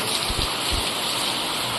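The season's first heavy rain falls outdoors, a loud, continuous wash of drops with a few low rumbling bumps near the start and no talking.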